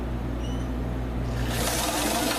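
Home sewing machine stitching fabric for an 18-inch doll dress, a steady close mechanical whir that grows brighter and busier partway through, with no talking.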